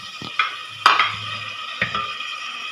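Green garlic and green chillies being fried in a pan, with a few sharp utensil knocks and stirring scrapes over a low sizzle, close and moderately loud.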